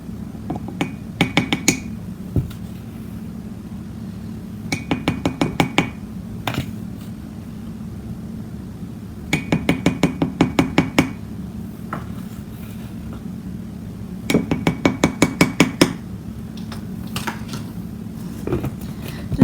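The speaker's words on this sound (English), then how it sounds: "So here is my 1 tablespoon. I'm going to add 4." A tablespoon clinks repeatedly against a ceramic mug while scooping flour, sharp bright taps arriving in four quick clusters of rapid strikes separated by short pauses, over a low steady background hum.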